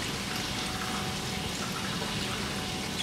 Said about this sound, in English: you can put your noodles in the water.